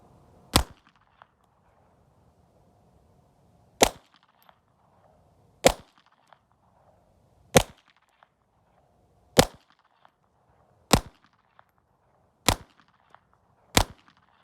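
A 2024 Walther PPK .32 ACP pistol fires eight sharp, loud single shots spaced one to three seconds apart outdoors, with quiet gaps between them.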